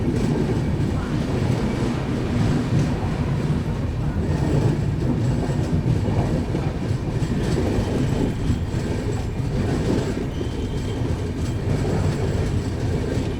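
A Shatabdi Express chair car rolls along the rails between Pune and Secunderabad, a steady loud rumble with faint rhythmic wheel clatter heard from inside the moving train.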